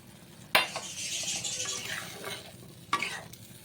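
A spoon stirring Bengali bata fish curry with potatoes in a pot, with two sharp scraping clinks against the metal and soft bubbling and sizzling between them.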